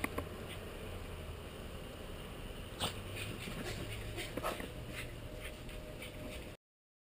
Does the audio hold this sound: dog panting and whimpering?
yes